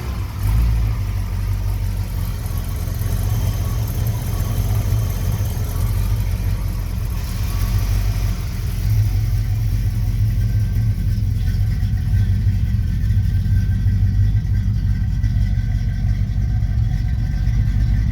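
A 1965 Ford Mustang Fastback, A code, idles steadily close by, its deep low rumble holding even and loud for the whole stretch without revving.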